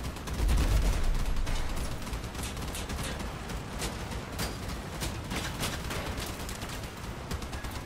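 Rapid, repeated blasts from sledgehammer shotguns mounted on a vehicle in Crossout, loud and steady over several seconds with a heavy low rumble underneath, no talking.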